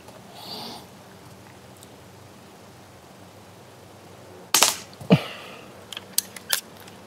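A single air rifle shot fires a 4.5mm Rifle Start pellet at a 10m target outdoors: a sharp, loud crack followed by a second impact-like snap, then a few faint clicks.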